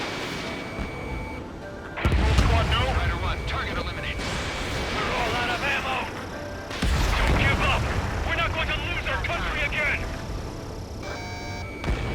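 Aerial combat gunfire in Ace Combat 7: Skies Unknown, loud sustained booming bursts with rumbling low end, swelling in two heavy waves amid jet and radio noise.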